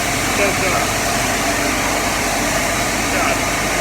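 A grain vacuum empties a grain bin with a loud, continuous engine drone and a steady airy roar, while someone talks over the noise.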